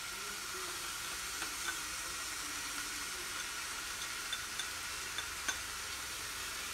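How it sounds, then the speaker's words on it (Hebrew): Vegan green lentil stew with chopped coriander being stirred in a cooking pot, a faint steady simmering hiss under soft scraping strokes and a few small clicks of the spoon against the pot, with no talk. "מערבבת את כל התבשיל"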